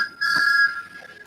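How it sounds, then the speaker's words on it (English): A Thomas the Tank Engine alternate whistle in Magic Railroad style, a single clear steady tone lasting about half a second and then fading into a softer tail. "Thomas, we go to alternate whistle"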